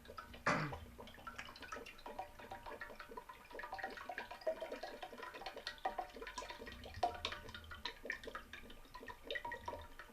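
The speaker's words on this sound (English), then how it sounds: "we're just going to go ahead and dump the whole jar into the water" A whole jar of contents tipped into a pot of cold water while preparing wild Spanish octopus, a quiet close splash followed by soft continuous trickling and dripping with no voices.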